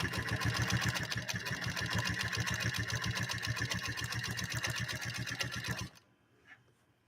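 A New Home Golden sewing machine pushes a leather needle through leather in a fast, regular mechanical chatter. It stays loud and close for about six seconds, then stops abruptly.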